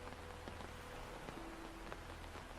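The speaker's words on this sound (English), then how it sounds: "with rain falling outside" Steady rain falls outside an old Victorian-style hotel, a soft continuous patter with faint drips and a low hum, heard alone at a gentle, distant level.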